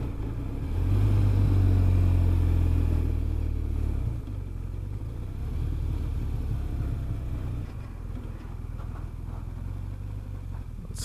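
Motorcycle engine droning steadily during a winter ride, a low continuous rumble with wind noise that swells briefly early on, then settles into an even hum; no talking.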